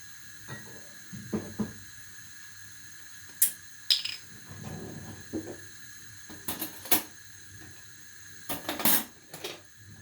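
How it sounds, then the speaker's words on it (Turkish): Salt added with a measuring spoon into a pot of boiling water for Turkish poached eggs in yogurt: scattered light metallic clinks and taps of spoon against pot, irregular and close, over a soft bubbling background with no talk. "Şimdi koyduğumuz kaynar suyun içine biraz tuz atacağım. Şöyle ölçeğimle tuz atıyorum."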